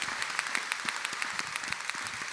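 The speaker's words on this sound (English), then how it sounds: "let's give them all a big round of applause" Audience applause at a conference, a soft, fairly distant patter of scattered clapping with irregular individual claps standing out, steady for a couple of seconds.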